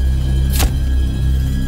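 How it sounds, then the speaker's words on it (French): A car engine rumbles low and steady at close range as the vehicle pulls away, with one brief whooshing sweep passing near the middle. "il est monté dans sa voiture et il est parti."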